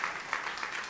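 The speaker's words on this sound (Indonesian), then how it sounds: "Tepuk tangan yang meriah untuk kemuliaan nama Tuhan." Applause from a church congregation rises in a steady patter of many hands, moderately loud and slightly distant, with no talk over it.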